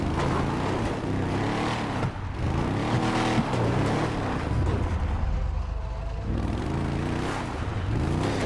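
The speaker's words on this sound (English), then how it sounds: "But this truck also is a monster truck, so it's not having a terrible time." Monster truck in GTA V driving off-road down a mountain, a continuous rumbling engine with shifting revs and bumps, loud and close throughout.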